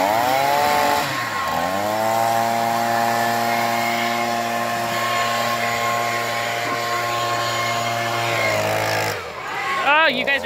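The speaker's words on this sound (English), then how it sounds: "Battle of the blowers. Gas versus electric." Gas and electric leaf blowers run together loudly and continuously, with a steady drone and a whine that dips and rises near the end. Children's voices are heard with them.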